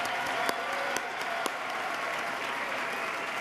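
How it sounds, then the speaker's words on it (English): An audience applauding a New York State Senate leader at a State of the State address, a steady wash of clapping with a few sharp claps standing out early on. "You win the applause, leader."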